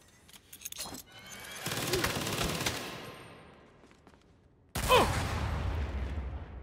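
Gunfire in Saints Row: a burst of shots rings out, then fades into a washed-out tail, followed by another loud, dense volley near the end, with little talk.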